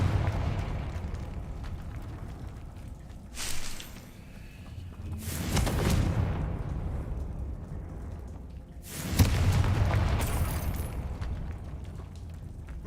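Confringo blasting-curse explosions from Hogwarts Legacy on PC, two booming bursts a few seconds apart over a steady rumbling game background, each with a sharp crack and a rolling tail.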